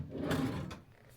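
A wooden drawer of a six-drawer hotel dresser slides open or shut in a quiet room at Hong Kong Disneyland Hotel, one soft scraping glide ending in a light bump, with no talk.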